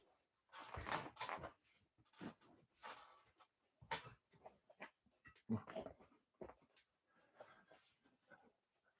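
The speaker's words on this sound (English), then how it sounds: "Sweeney, dogs come to John." A dog moves around nearby, with soft whimpers, snuffles and scuffling amid clattery household knocks; no talking.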